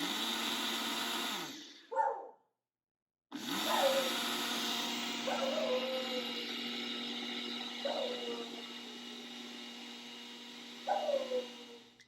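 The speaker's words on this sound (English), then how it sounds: "I've got everything in my little blender cup here, so we're gonna blend it together" A small blender cup whirs steadily blending a protein shake, cutting out briefly, then resuming with a constant motor drone and a few clunking pulses.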